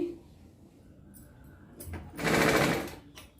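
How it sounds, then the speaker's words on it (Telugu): A sewing machine stitching a blouse runs in one short, fast, rattling burst after a quiet moment of fabric handling, close and clear. "ఇది ముందే కుట్టుకోవాలి నేను మిస్ అయిపోయాను ఇప్పుడు కుడుతున్నానండి"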